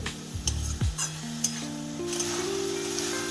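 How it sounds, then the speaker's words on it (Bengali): Chicken mince stir-fried with spices in a pan for egg devil, a close, continuous sizzle with spatula scrapes and metallic clinks of utensil against the pan, no talking. "চিকেনটাকে ভালো করে মশলার সাথে কষিয়ে নিলাম"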